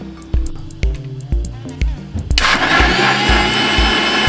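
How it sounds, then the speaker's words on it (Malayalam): An electric mixer grinder blends grape pulp juice with sugar. A few rhythmic clicks and thuds come first, then the motor kicks in with a loud, steady whirring roar that runs to the end. "നമ്മൾ കുറച്ച് പഞ്ചസാരയും ചേർത്ത് മിക്സിയിലിട്ട് ഒന്ന് അടിച്ചെടുത്തിരിക്കുകയാണ്."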